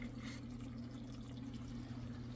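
Water running through an aquarium siphon gravel cleaner into a fish tank setup: a faint, steady low flowing hum with light trickling, unchanging for a couple of seconds.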